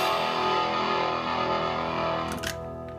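An electric guitar through a DOD 250 distortion pedal rings out a thick, saturated chord, sustaining before a brief scratchy pick noise near the end.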